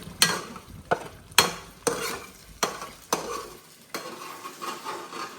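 Noodles fried in a pan at home, a utensil scraping and stirring in sharp, repeated strokes over a soft sizzle, close and fairly loud, with no talk.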